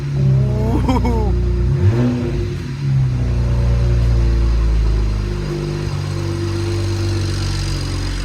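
BMW 335xi with a 6266 turbo idling steadily, a loud, close low rumble that holds evenly throughout, with a brief rev-like swell near the start and no talking.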